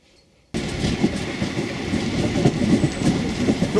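Rovos Rail luxury train rolling along tracks in South Africa, steady clickety-clack of wheels and close rumbling carriage noise, starting abruptly after a short quiet moment.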